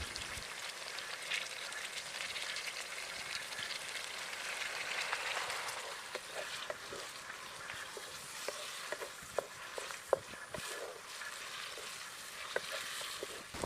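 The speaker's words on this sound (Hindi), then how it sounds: "जब प्याज गल जाए तो 3 टमाटर काट कर शामिल कर लें और गलने तक फ्राई करते रहें।" Chopped tomatoes and onions fry for chicken karahi, giving a steady soft sizzle with faint stirring scrapes and light clinks toward the end, with no voices.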